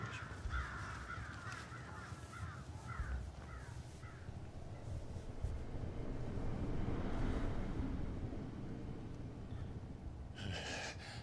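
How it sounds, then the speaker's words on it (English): Vultures caw in the video game Final Fantasy XVI, a run of hoarse crow-like calls in quick succession over a rumbling, noisy ambient bed, followed by a brief scratchy burst near the end. "Actually, those aren't crows. Those have got to be vultures."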